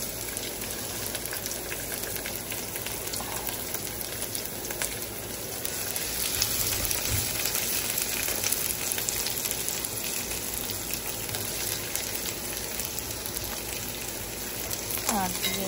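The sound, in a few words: onions frying in oil with garlic for spinach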